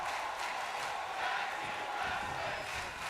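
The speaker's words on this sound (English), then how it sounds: "you hear the crowd" A steady, faint roar of arena crowd noise in the wrestling video game WWE 2K22, a continuous wash of cheering without distinct claps or voices.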